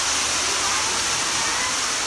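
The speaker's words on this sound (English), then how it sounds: "What did you find? A waterfall." A waterfall in a cave gives off a steady, dense roar of rushing water. The sound is loud and unbroken throughout, with no voices.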